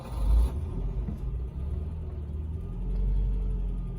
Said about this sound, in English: I turned the key and then I moved the Citromatic transmission shift lever over to the left, and that's how you engage the starter